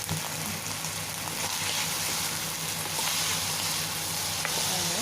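Beef and spring onion sizzle steadily in a hot pan, a dense crackling hiss with occasional small pops throughout.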